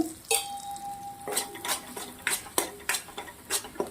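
A spoon scrapes and clinks against a pan while chana dal halwa is stirred and roasted in ghee, in a run of irregular close metallic taps and scrapes with a faint sizzle underneath.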